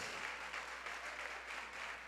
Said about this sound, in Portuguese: palmas para nossas irmãs